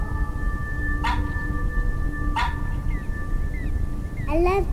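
A dog in the video game That Dragon Cancer gives a few short barks and yips at a moderate distance, spaced apart over steady background music, ending in a higher whimpering cry.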